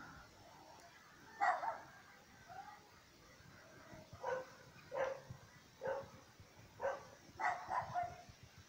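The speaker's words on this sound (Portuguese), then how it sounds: "Os cachorros tá tudo latindo ali." Several dogs bark and yip at a distance across a rural village in the Serra da Tromba hills, scattered barks recurring irregularly over a quiet outdoor background.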